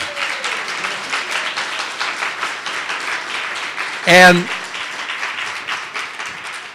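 Audience applause at a neighborhood storytelling forum rolls on steadily throughout, with a single short spoken word cutting in briefly near the end over the clapping.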